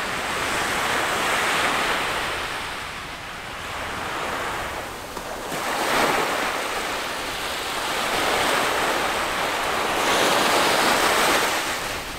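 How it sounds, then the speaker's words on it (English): Ocean surf rolls onto a Bahamas beach in Nassau in slow, swelling waves under steady, gusting wind that buffets the microphone, with no voices. "Sorry if it's a bit windier, we're obviously on the beach"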